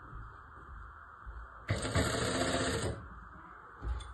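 A sewing machine stitches a one-year-old baby's frock in a single steady run of about a second, close and fairly loud, starting suddenly and stopping just as abruptly, with quiet before and after.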